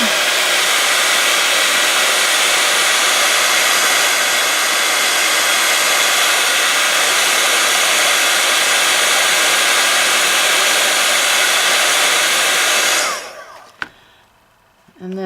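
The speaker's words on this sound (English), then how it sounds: "I'm going to heat set this clear embossing powder." A handheld heat tool blows with a loud, steady roar of hot air while heat-setting clear embossing powder, running continuously close up for about thirteen seconds before switching off abruptly, leaving faint clicks and handling sounds.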